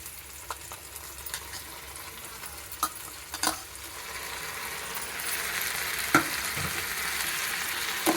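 Tomatoes frying with golden onions and chillies in a pan for a meal-maker curry, a soft steady sizzle that builds and grows louder partway through, with a few sharp clinks from stirring.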